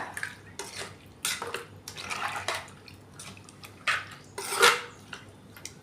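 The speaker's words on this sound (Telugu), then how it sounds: "ఇలా స్పూన్తో మొత్తం మన పప్పు ఇవన్నీ కలిసేలాగా" Spoon scraping and clinking against a pot while stirring mango dal, a Telugu home-style dish of toor dal with raw mango, in irregular bursts close by, with no talk.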